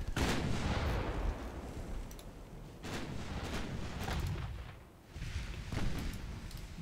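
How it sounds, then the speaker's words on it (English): Naval guns fire repeatedly from a warship in a naval combat video game. The rapid booming salvos blend into a dense, continuous roar of gunfire, with brief lulls between heavy volleys and no talking over them. "Try and keep all guns firing whilst heading away"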